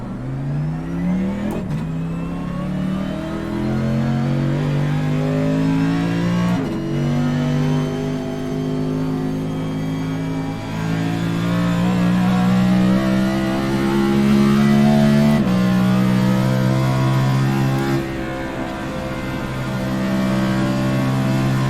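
A race car's engine revs up through rising, stepped gear pulls as it accelerates out of a corner, loud and continuous for about twenty seconds with no voices.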